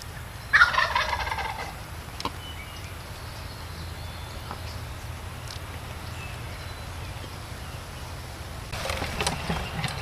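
Wild turkey toms strutting near decoys gobble in loud, rattling bursts, one close call at the start and another toward the end, over a steady outdoor wind rumble.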